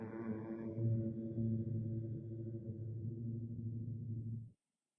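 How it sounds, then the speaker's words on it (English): A person hums a sustained buzzing tone on the letter M during a qigong and yoga breathing exercise, one long steady note lasting several seconds before stopping abruptly, heard alone. "make a humming sound like you're trying to vibrate your forehead with the letter M sound"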